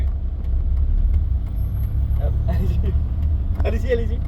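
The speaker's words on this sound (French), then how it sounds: "c'est un petit moteur atmosphérique de 4 cylindres" Cabin drone from a Lotus Elise's small naturally aspirated four-cylinder engine while driving, a loud steady low rumble with someone talking over it.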